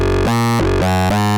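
Distorted Arturia MiniFreak synthesizer patch with a wave-shaped oscillator plays a gritty, harmonically dense line of four sustained notes shifting in pitch, loud and upfront with no voices.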